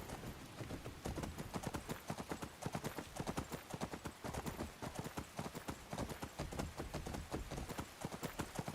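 Horse hooves in Skyrim clip-clop in a steady, even trot, with rapid regular hoofbeats continuing throughout at moderate distance and no talk over them.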